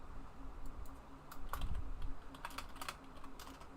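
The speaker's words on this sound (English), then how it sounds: "when I push down the keys, it's not quite as like loud" Quiet computer keyboard typed on in quick, uneven bursts of soft clicks, close and fairly faint with no talk over them.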